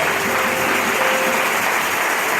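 A church congregation applauding loudly and steadily, a dense sustained wash of clapping with no talk over it.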